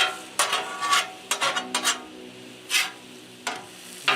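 Honey-lime pork chops sizzle in a pan amid intermittent scraping and clinking as they are stirred and flipped, bursts of cooking noise over a low steady fry.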